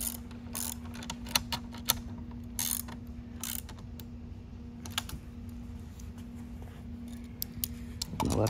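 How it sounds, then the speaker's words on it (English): A wrench tightens bolts on an RV captain's chair, giving close, quick ratcheting clicks in scattered bursts over a steady low hum, with no talking. "you want to make sure you do end up tightening these bolts down"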